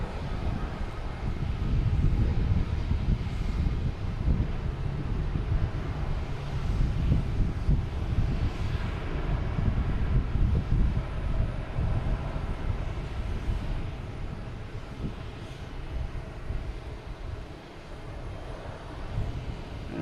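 A United airliner at Boston Logan Airport gives a steady, broad jet engine roar, moderately distant and rumbling, with gusts of wind buffeting the microphone throughout.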